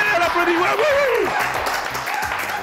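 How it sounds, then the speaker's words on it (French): Studio audience of a French TV news show applauding in a steady wash of clapping, with a presenter's voice and a whoop carried over it. "Allez, on l'applaudit."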